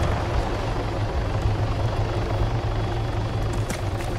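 In Virolahti Driving Simulator, a helicopter's steady, loud rotor thrum and engine drone fill the whole stretch without pause, continuous and close.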